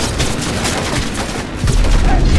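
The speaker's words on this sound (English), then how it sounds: "Shotgun definitely seems to be my most effective weapon" A shotgun in Cyberpunk 2077 fires amid dense, chaotic combat, with a rapid series of loud blasts and crackling impacts layered over one another, close and continuous.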